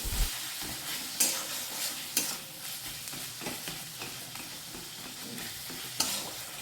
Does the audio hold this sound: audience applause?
no